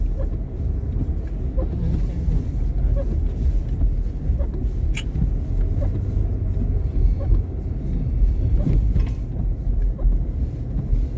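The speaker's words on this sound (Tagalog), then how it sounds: "Malakas ang hangin, malakas ang snow." Steady, heavy wind of a snowstorm in Canada roars and buffets the microphone continuously, a dense low rumble with gusty surges and no voices.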